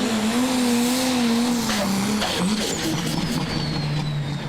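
A prostock pulling tractor at a Eurocup tractor pulling event in Brande, Denmark, runs down the track with a loud, steady engine roar and a sustained droning pitch that sags slightly toward the end, heard close and alone.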